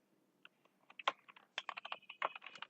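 Typing on a computer keyboard, entering an IP address while configuring OSPF in Cisco Packet Tracer. Quick, irregular clusters of close, crisp keystroke clicks with no talk.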